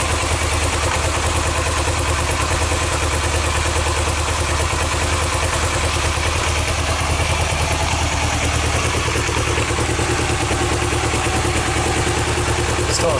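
A Suzuki GR 650 Tempter motorcycle ticking over after carburettor work, a loud, steady, even idle with a mechanical clatter that runs without pause.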